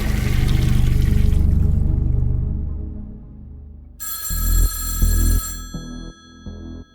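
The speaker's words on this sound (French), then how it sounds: "Le téléphone sonne" A telephone rings in a few bright, repeated bursts after a stretch of low rumbling noise, fairly close and loud.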